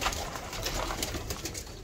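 A pigeon coos steadily close by, its low repeated calls running over a constant hum of background noise with no voices.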